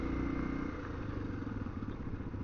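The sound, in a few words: dual sport motorcycle engine running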